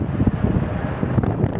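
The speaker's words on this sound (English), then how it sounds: "It's quite windy up here though" Gusty wind buffeting the microphone on an open rooftop deck, a dense low rumbling roar that fills the short moment without letting up.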